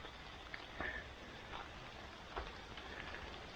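Warm morning rain falls steadily over a tropical food forest garden in Chiang Rai, northern Thailand, a soft continuous hiss with a few faint drips and patters standing out, no talking.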